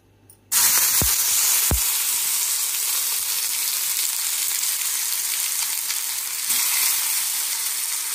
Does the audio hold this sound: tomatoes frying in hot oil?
yes